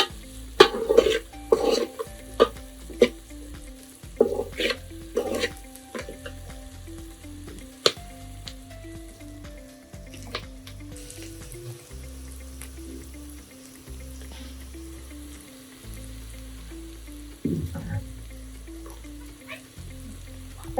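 Spices sizzle in a hot oil tempering with salt for a Gujarati chil bhaji greens dish while a spoon stirs and scrapes the pan, giving a continuous fry under irregular clinks and knocks, with no talking.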